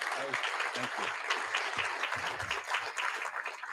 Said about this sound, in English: let's give a round of applause for all of our candidates tonight.